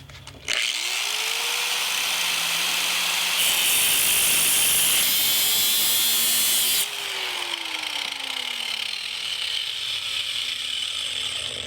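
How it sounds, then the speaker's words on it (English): An angle grinder fitted with a cutoff wheel slices through the steel door of a Jeep Cherokee, a loud, sustained high-pitched scream that shifts pitch as the wheel bites, then spins down and whines on near the microphone. "I'll just use my angle grinder with a cutoff wheel to make my cut."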